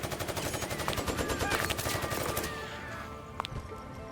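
Gunfire in the video game Sintopia: dense, rapid bursts of automatic shots crackle continuously, then thin out into a few scattered, fainter shots.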